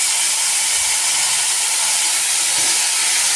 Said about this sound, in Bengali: এই যে নেড়ে তুলে নিই মাশরুমগুলো